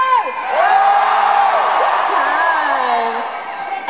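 A concert crowd at the SSE Arena, Wembley, shouts and cheers loudly and continuously, with whoops and yells rising over a dense wall of voices throughout.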